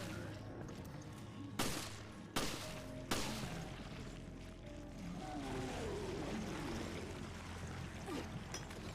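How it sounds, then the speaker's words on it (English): Gunfire in Resident Evil Revelations, with three sharp, loud shots spaced about a second apart over a steady rumbling game ambience. "Parker's just straight up shooting it in the ass."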